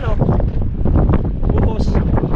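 Gusty wind buffets the microphone out at a fishing spot, a loud rough rumble running under voices talking.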